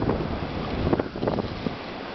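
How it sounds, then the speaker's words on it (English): Strong blizzard wind gusts around 40 to 45 miles per hour buffet the microphone during heavy snowfall, a rough, irregular roar with rumbling surges and no talking. "45 mile an hour wind gusts right now."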